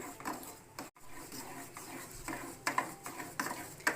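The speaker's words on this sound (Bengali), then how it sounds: "বারবার নেড়ে নেড়ে, গ্যাসটা কিন্তু অফ করা বন্ধু।" Gram flour for laddu is stirred over and over in a pan with the gas off, giving repeated soft scraping and rubbing strokes, quiet and close, with a brief pause near the start.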